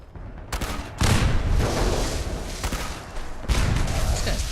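Gunshots in Fallout, a steady rattle of repeated fire with sharp onsets around the second mark and again near the end, loud and close, some rounds striking a fence.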